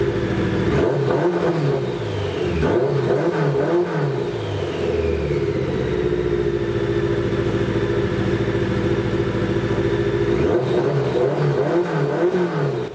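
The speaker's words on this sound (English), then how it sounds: "Some of these revs in this video actually went pretty damn high, as you heard, and they sound pretty good." A 1986 BMW K100 motorcycle engine revs hard and holds high RPM, climbing and sweeping in pitch and settling into a sustained loud whine before revving again, close and continuous with no voices.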